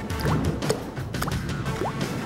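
Water splashes in a cartoon-style sound effect, with a steady liquid wash and several short droplet blips and sloshes scattered over a couple of seconds.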